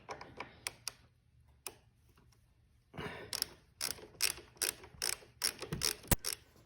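Ratchet clicks snugging down Murphs bar riser bolts by hand, heard as short bursts of sharp metallic clicking with brief pauses, sparse at first and then in quick repeated runs, close by.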